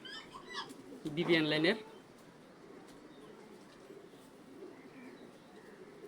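A racing pigeon hen of Olympic line gives a short, close coo lasting under a second, with someone talking quietly just before it and soft room noise after.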